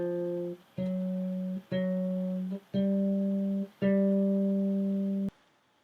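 Bass guitar playing a simple beginner exercise: five steady sustained notes, each held about a second with brief gaps between, clean and close with no talking.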